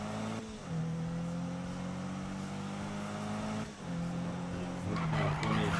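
A car drifting in Need for Speed (2015) at around 7000 rpm: a loud, sustained engine drone with steady tire squeal, pitch dipping on shifts and rising again near the end, continuous and close.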